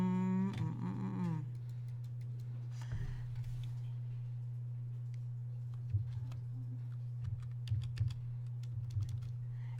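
Keys clack on a computer keyboard in short scattered bursts over a steady low hum, fairly faint and close, with no talking.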